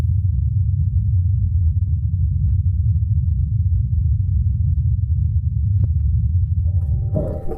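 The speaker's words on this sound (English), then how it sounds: "And this is a recording of the Ingenuity helicopter in flight." Ingenuity helicopter in flight on Mars, a steady low droning hum of spinning rotors held throughout, faint and distant, ending with a brief higher tone at the close.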